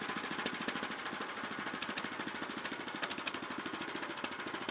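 A 7.5 horsepower sawmill cutting 2x8 boards, its small engine chugging in a fast, steady knocking rhythm with a dense, gritty blade hiss over the top, loud and continuous with no talking.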